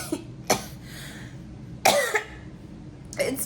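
Someone coughs repeatedly after eating spicy food, a few sharp bursts spaced across the moment, close up in a quiet room.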